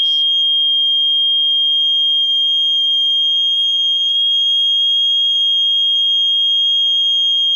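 Steady high-pitched whine from an old vacuum tube television warming up, continuous and loud for the whole stretch with faint ticks and clicks underneath and no talking.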